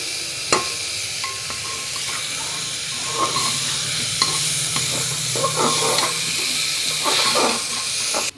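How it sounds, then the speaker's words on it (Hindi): Tomatoes cooking in a pressure cooker for a mushroom capsicum curry, stirred and mixed, giving a constant loud sizzle and hiss with scattered utensil scrapes and taps, close up, no talk. "बर्तमान आम टमाटो पकेबा। भल भाव में मिक्स करवा"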